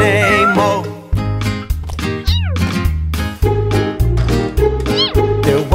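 A cat's meows are sung through a children's nursery rhyme, with repeated pitched meow syllables set to a bouncy beat over loud music, likely a voice imitating the cat.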